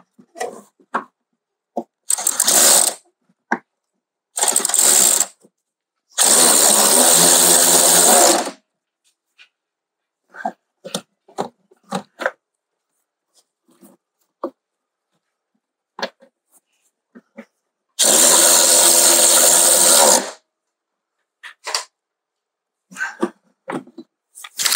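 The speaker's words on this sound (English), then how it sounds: "Whiz them up with your ratchet." Ratchet spinning bolts tight on a Volkswagen Golf rear shock during replacement, heard as several loud bursts of fast whirring clicks, with sparse small knocks and taps between them.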